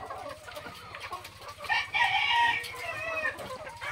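Layer hens cluck close by on a morning farm while a rooster crows loudly through the middle, over a steady low hum of background noise.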